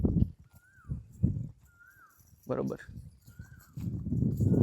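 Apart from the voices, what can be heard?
Marwari mare, hooves clip-clopping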